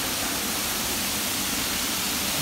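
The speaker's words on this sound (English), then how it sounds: "This they call the waterfalls." Gunhuban Falls in Leyte roars as a steady, dense wash of falling water, loud and unbroken throughout with no voices over it.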